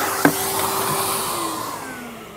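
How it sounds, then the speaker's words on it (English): A vacuum cleaner runs steadily while cleaning up dust on a boat during a seacock installation, a continuous whining hum with a sharp knock near the start. "obviously we have to clean up the dust, so we're going to use the vacuum cleaner for that"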